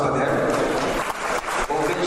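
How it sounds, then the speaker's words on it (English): A reception crowd at an African fashion event in Paris applauds its event partners with dense, continuous clapping, loud and close throughout. "Please a round of applause for them."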